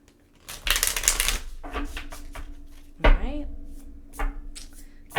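Tarot cards are shuffled in quick riffling bursts with brief pauses between, close and fairly loud, while someone speaks briefly over them.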